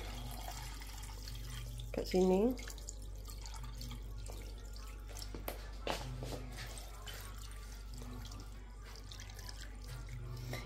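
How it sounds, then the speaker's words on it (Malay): Soaking water from glutinous rice is tipped out and poured away during pekasam preparation with tilapia, a steady watery trickle under a constant hum, with a person talking. "ini rendaman beras tadi itu kita tuang saja"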